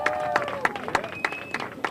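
Audience at a youth rally on community gun violence prevention gives scattered, sharp handclaps at an uneven pace, with a few whistle-like tones and crowd murmur mixed in.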